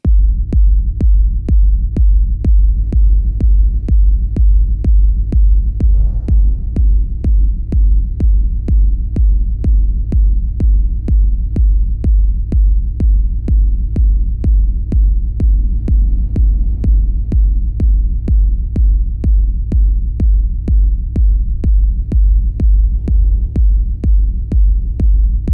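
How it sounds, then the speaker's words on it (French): A steady four-on-the-floor techno kick drum pounds at a fast, even pulse for the whole stretch, its deep low thump wrapped in a short warehouse-bunker style reverb tail, loud and alone with no voices. "ce qu'on veut, c'est créer une reverb donc, qui donne ce feeling un petit peu warehouse."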